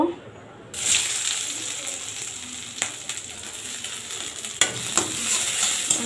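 Onions go into hot oil in a pot and burst into a loud, steady sizzle after a quiet start, with a few scrapes and clatters of stirring through the frying.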